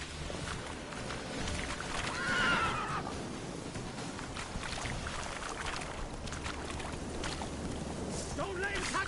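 A horse whinnies in the video game The Witcher 3: Wild Hunt, a short high neigh over hoof clatter and game ambience, with voices talking throughout.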